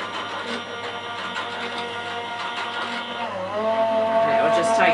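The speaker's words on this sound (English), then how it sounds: "Turn the Gemini on. Like I said, mine's rather buckled. And then we would just feed it into the machine." A Gemini die-cutting machine, running while a slightly buckled cutting plate feeds through, gives a steady mechanical whir and hum that rises and turns more tonal toward the end, with a voice talking over it.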